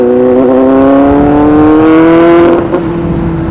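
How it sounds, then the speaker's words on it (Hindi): Kawasaki Z800 motorcycle fitted with an SC Project exhaust revs loudly and close by, a steady rising engine note that holds for a few seconds before dipping slightly near the end; no talking. "एग्जॉस्ट बहुत अच्छा है यार, इसमें SC प्रोजेक्ट लगा हुआ है"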